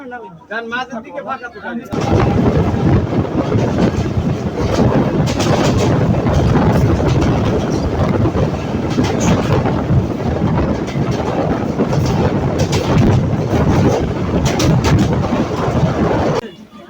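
Nakshikantha commuter train running on rails, a loud continuous rumble with rhythmic clatter that starts abruptly after a brief quieter moment and holds steady, with voices partly under it.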